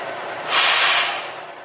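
Air hisses out in a loud, sustained burst lasting under a second and then fades as the airbag suspension lowers on a prime mover truck backing under a semi trailer.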